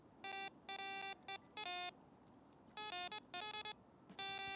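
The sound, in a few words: Wolf rechargeable fishing bite alarm sounding as roller wheel turns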